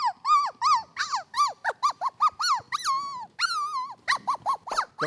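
A voice imitates a dog, giving a rapid series of short, pitched yelps and whimpering barks with brief pauses, loud and close, with no other talk.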